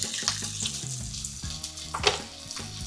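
Bacon frying in a crowded pan, a steady close sizzle and crackle with small pops, with clinks and scraping of a utensil against the pan throughout.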